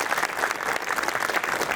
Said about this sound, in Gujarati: અને આના માટે જોરદાર તાળીઓ થઈ જાય આપણા માટે.